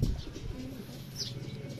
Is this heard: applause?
no